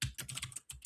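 A few quick keystrokes tap on a computer keyboard to enter a shortcut, faint, close-up clicks in a brief irregular burst.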